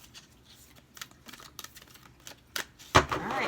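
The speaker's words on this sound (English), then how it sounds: "we're going to shuffle 2 more times" Tarot cards being shuffled up close, a series of quick papery riffles and taps, ending in a louder flurry of cards.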